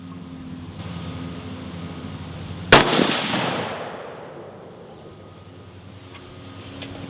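A single sharp, loud gunshot from a short-barrelled Horizon Vandal X rifle in 22 Creedmoor, followed by a long fading echo over a steady background hum.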